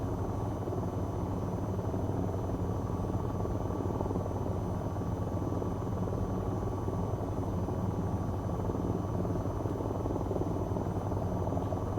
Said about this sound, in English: then boom, attack helicopter out of nowhere